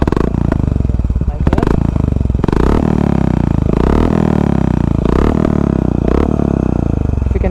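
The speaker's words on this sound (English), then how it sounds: "Now this is the exhaust note." A Honda H'ness motorcycle with a Red Rooster exhaust idles and blips its throttle repeatedly, the loud, throbbing exhaust rising and falling with each rev.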